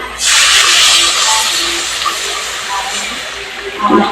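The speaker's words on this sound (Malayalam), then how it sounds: "ഇതിലേക്ക് ഞാൻ കുറച്ച് വെള്ളം എടുത്ത് വെച്ചിട്ട് അത് ഒഴിക്കാം" Water poured into a cooking pot rushes in as a loud, steady hissing stream close by, easing off slightly over several seconds before a short clatter at the end.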